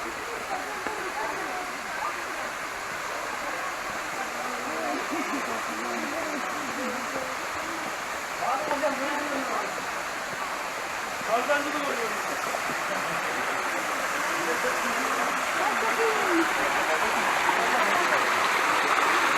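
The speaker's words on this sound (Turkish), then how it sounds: "Bu üçüncü şelale." Rushing water at the Tatlıca waterfalls, a steady broadband roar filling the whole stretch, with people talking faintly over it now and then.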